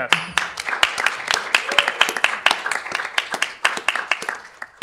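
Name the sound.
audience applause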